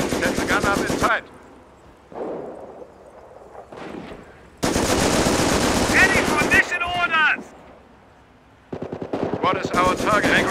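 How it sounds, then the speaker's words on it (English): A machine gun fires in the Company of Heroes video game with a Luftwaffe Blitzkrieg mod, sounding as loud, dense bursts of rapid shots separated by quieter gaps, with shouted soldier voices and battle noise around them. "I want that machine gun deployed right away"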